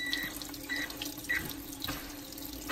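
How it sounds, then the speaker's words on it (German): A tap runs water steadily onto a SGILE remote-control racing boat for pool and outdoor use, a soft continuous splashing and trickling with faint drips, close by and with no voices. "wir lassen jetzt mal Wasser an ein bisschen"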